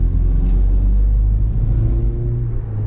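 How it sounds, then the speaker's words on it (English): A 1985 Opel Manta GTE drives with a deep, loud engine rumble and a steady rev, heard from close by with no voices. "We'll go for a wee drive in the car"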